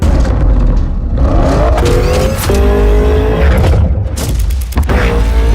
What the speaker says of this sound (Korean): V8 엔진에 엄청난 배기음까지